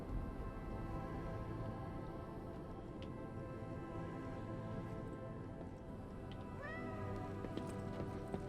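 A cat in the video game Lies of P meows while being petted, with repeated soft meows over a steady game background hum and music, fairly faint and close.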